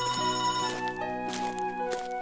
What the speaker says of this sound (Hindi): तभी शमिता के रूम से फोन बजने की आवाज आती है